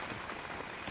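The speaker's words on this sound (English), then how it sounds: "It's rainy and it's very windy." Rain falls steadily on a winter canoe camp in the Swedish woods in December, a dense, even hiss of drops on surfaces, close and continuous, with no voices.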